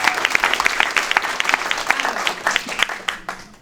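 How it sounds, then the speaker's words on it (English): A small stand-up comedy audience claps in loose, uneven bursts that grow sparser and fade out over a few seconds. "can we applaud for it?"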